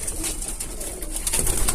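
Soft, low cooing of birds continues throughout, close by, with a steady background murmur.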